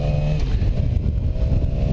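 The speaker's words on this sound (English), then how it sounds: "Yamaha R6." Yamaha R6 sport motorcycle ridden at low revs while breaking in new tires, a steady close engine drone with a low throbbing hum and no sharp revving, heard under wind noise.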